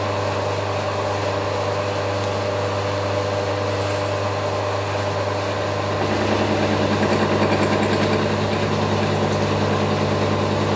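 A milling machine runs steadily, its motor whine and tonal hum continuous throughout while coolant is applied, with the cut at a very slow feed growing slightly louder and rougher toward the end.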